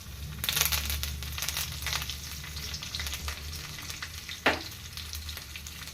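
Crushed garlic cloves and curry leaves fry in hot oil in a pan, giving a continuous close sizzle with crackles and a sharp clatter as the pan is stirred.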